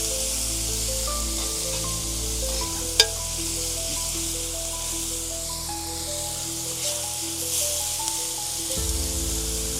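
Chopped tomatoes sizzling in a hot pan for Mangalore-style egg kothu parotta, a steady, even frying hiss with one sharp clink partway through, no voices.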